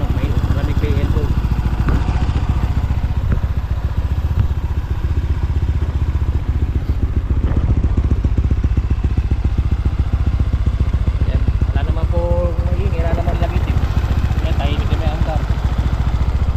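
A Yamaha Mio M3 scooter engine fitted with a big valve head idles steadily close by, a constant low mechanical putter with some clatter, while someone talks over it.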